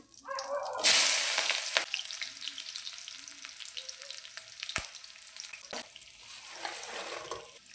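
Chopped onion dropped into hot oil for tomato rasam gives a sudden loud sizzle that settles into a steady frying crackle, with a few sharp clicks of a spoon or pan, all close and without talk.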